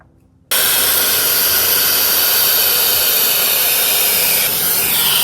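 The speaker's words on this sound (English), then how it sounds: "I changed the attachment to this nozzle to like blow dry my hair the traditional way" A hair dryer brush with a nozzle attachment blow-drying hair, switching on abruptly after a brief quiet moment and then roaring as a loud, steady close-up airflow.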